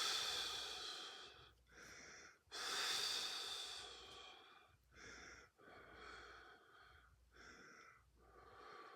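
Slow, deep breaths during a yoga stretch, each long inhale and exhale close and clearly audible, repeating in an even rhythm with short pauses between.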